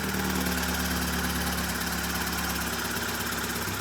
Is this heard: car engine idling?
yes